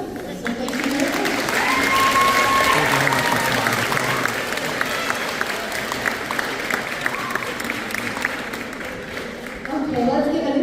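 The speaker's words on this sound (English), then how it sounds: "let's give another huge round of applause right here" A school band awards concert audience claps in a long, dense round of applause that holds steady and loud for several seconds, fades slightly near the end, then picks up again, with voices faintly mixed in.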